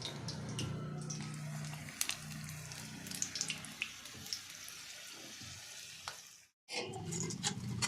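Bajji fritters sizzling in hot oil, a steady close frying hiss with scraping stir and clatter sounds over it, then a brief silent gap before the sizzle returns.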